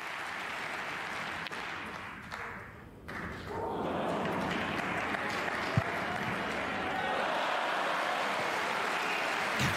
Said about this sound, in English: And a giant roar from the crowd.